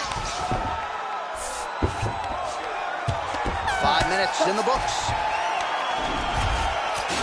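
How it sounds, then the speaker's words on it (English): Crowd noise from a UFC 4 video game bout, a steady wash of cheering and whoops rising between rounds, with a commentator talking over it throughout. "So the crowd voicing its appreciation after that round."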